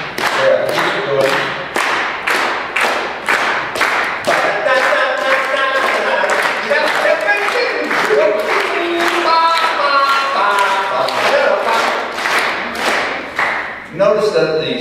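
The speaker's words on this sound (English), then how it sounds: "Would you clap with me, please?" An audience claps together in a steady, syncopated rhythm, sharp and loud, continuing evenly through the whole stretch before a brief break near the end.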